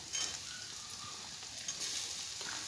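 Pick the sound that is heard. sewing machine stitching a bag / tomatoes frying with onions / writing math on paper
tomatoes frying with onions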